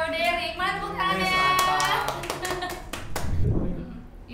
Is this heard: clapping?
yes